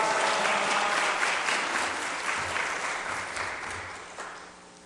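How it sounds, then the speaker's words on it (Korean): A church congregation applauds to welcome a pastor, a loud, full round of clapping that starts at full strength and slowly thins over about five seconds, with no voices. "우리 박수로 환영하겠습니다"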